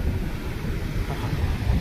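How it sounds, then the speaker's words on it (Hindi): Sea waves surge onto an island beach with a broad, steady roar, heavily buffeted by wind rumbling against the microphone, with no distinct individual breaks. "ये देखिए कितनी भयानक भयानक लहरें उठती हैं"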